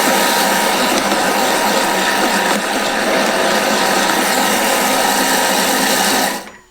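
A Thermomix kitchen machine running at speed 6, blending vegetable stock ingredients with celery leaves: a loud, steady motor whir with a churning roar for about six seconds, then a quick wind-down to silence.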